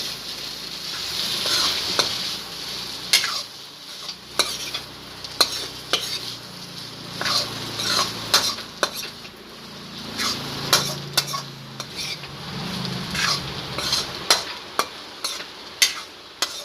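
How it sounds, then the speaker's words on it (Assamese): Chicken curry is stirred in a pan with a steady soft sizzle, broken by repeated sharp clinks and scrapes of a utensil against the metal at an uneven rhythm. "দি পেলাই সুন্দৰভাৱে এনেকুৱাকৈ লাৰি থাকিব।"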